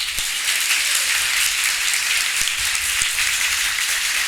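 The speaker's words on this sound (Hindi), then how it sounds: "बजाओ ताली।" Hands clap together in a steady, dense patter from the audience at a Hindu devotional satsang, an even rain-like wash of clapping with a few sharper individual claps standing out.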